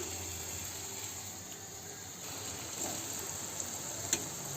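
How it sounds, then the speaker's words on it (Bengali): Palm pakon pitha sizzling as the cakes are slipped into hot oil, a steady close frying hiss with a faint tick near the end and no talk. "তেলের মধ্যে আবার আস্তে আস্তে পাকন পিঠেগুলো ছেড়ে দেবো"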